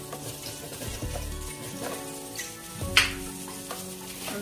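Vegetable oil and a little butter sizzle in a pan before a lamb leg goes in, a steady crackling fry with a few soft utensil knocks and one sharp clink near the middle.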